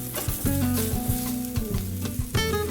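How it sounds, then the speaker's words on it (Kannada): Tomatoes sauté in a hot pan for moringa leaf palya, giving a steady loud sizzle with repeated stirring scrapes and spatula knocks throughout, no voices. "ಈಗ ಟೊಮೆಟೊ ಹಾಕ್ಕೊಂಡು ಬಾಡಿಸ್ಕೊಳ್ತಾ ಇದ್ದೀನಿ"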